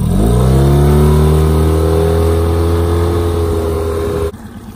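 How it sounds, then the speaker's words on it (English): A Tohatsu 9.8 hp outboard motor holds a loud, steady high-revving drone that rises slightly at first, then cuts off abruptly near the end, leaving a low idle rumble. "This motor quickly responds to throttle."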